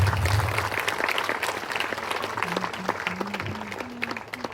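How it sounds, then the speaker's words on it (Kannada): Crowd applause for dignitaries seated on stage at a taluk-level Teachers Day celebration: dense, sustained clapping from a large audience, loudest at the start and gradually thinning, with a faint tonal hum running underneath toward the end. "ಈ ಸ್ಟೇಜ್ ಮೇಲೆ ಕೂತಿರುವಂತಹ ಎಲ್ಲ ಗಣ್ಯ ವ್ಯಕ್ತಿಗಳಿಗೆ ಜೋರಾಗಿ ಚಪ್ಪಾಳೆ"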